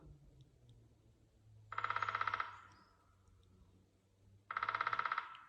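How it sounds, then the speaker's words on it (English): A pileated woodpecker hammers on a tall old-growth pine in the morning forest, two rapid drumming bursts a few seconds apart, each a fast even roll of knocks that rings clearly over quiet background. "Just giving you some cool woodpecker sounds this morning."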